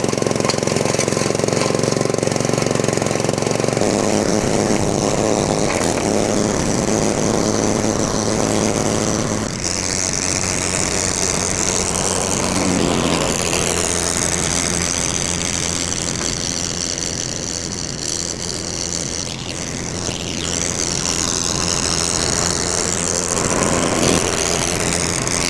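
An RC lawn mower engine runs loud and close throughout while mowing, a harsh, rattling drone that shifts in pitch and load as the machine moves across the grass, with no voices.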